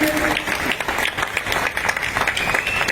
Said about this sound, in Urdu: ایک دفعہ زوردار کلیپنگ ہونی چاہیے یار آپ کی طرف سے